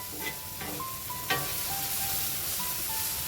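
Tomatoes frying in a pan for a shellfish dish, a steady soft sizzle with occasional scraping stirs and light clinks against the pan.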